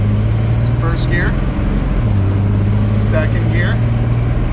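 Engine of a 1951 Chevrolet panel truck pulling away in first gear, a loud low mid-pitched drone that drops and steadies as it rolls, with brief voice-like sounds over it.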